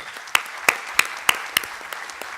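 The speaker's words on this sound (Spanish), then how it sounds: "es justo que le demos un aplauso de bienvenida a nuestros visitantes" Sparse applause welcoming visitors at an inauguration event, a handful of distinct loud claps spaced roughly evenly over a soft bed of scattered clapping from a small audience.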